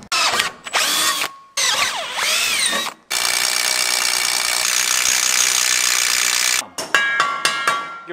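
A power drill bores bolt holes during a car build, with short whining bursts followed by one long sustained run, separated by brief pauses and a few sharp taps near the end.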